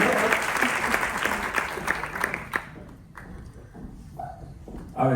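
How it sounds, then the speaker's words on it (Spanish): Audience applause rings out loudly at a Spanish-language talk on US taxes for non-residents, then dies away into scattered claps and faint room noise before a final burst. "darle un fuerte aplauso"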